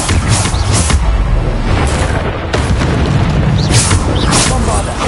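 Bombarda spell explosions in a video game burst out as loud repeated booms, several heavy blasts in close succession over a continuous rumbling bed, with a voice calling out under them.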